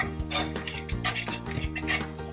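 A spoon stirring spices and masala in a metal pot for beef nihari, with scraping and several clinks of utensil against the pot, close and fairly steady.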